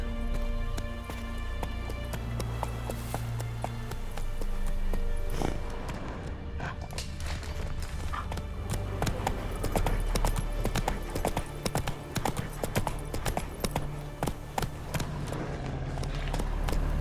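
Rapid hoofbeats of a galloping horse in the video game The Witcher 3: Wild Hunt, rhythmic and close, running steadily over a low droning background throughout.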